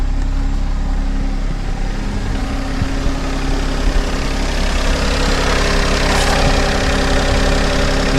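A Daihatsu Tanto L350S car idling after head gasket repair, a steady loud low engine rumble with an even drone and no talk.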